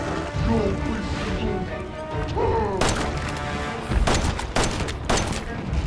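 Gunfire rings out in the horror game Resident Evil 7: loud, sharp bursts of shots, several in quick succession, with someone talking between them.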